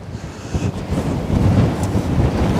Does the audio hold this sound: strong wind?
yes